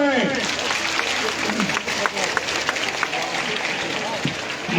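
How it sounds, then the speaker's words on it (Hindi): Crowd clapping at a village welcome ceremony for a state legislator in Talawara near Gangapur City, India; dense, steady applause filling the whole stretch with scattered voices and cheers mixed in. "जोरदार तालियां बजाएं।"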